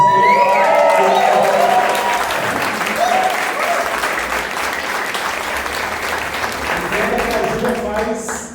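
A church congregation at an Easter service applauds a choir, sustained dense clapping filling the room from start to finish, with some voices and tones mixed in and the clapping easing off near the end.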